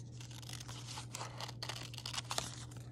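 Scissors cut out a paper shape for a Northwest Pacific Native American totem pole craft, giving a dense run of close crinkly snips and rustles over a low steady hum.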